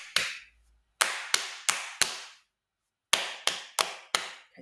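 A donkey kicking stable doors, imitated by a person with sharp percussive knocks: two groups of four loud, evenly spaced bangs separated by a pause, close and dry with no talking.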